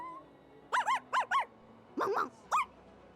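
A human voice imitates a dog barking from the Honkai: Star Rail video game, giving a quick run of yappy 'woof' sounds in two short bursts, close and fairly clear.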